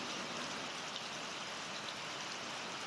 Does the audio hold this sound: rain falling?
yes